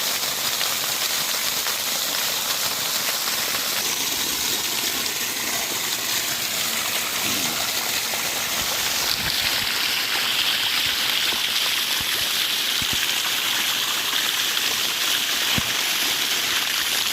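A DC water pump pushes water out through a 2.5 nozzle, making a steady rushing, splashing hiss like a stream of falling water. It runs continuously and close by, with no voices.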